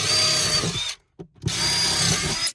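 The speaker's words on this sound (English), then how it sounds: "Just drill some holes in this one." A power drill whines loudly in two steady bursts, with a brief pause between them as the bit bores drainage holes into wood.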